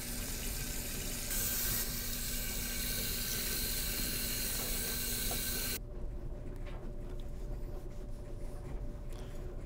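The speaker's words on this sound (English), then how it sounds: "Rinse it thoroughly with warm water and dry it with a cloth." A glass 3D printer bed for a Monoprice Mini is rinsed under running tap water, giving a loud, steady hiss of water that cuts to a quieter, duller flow partway through.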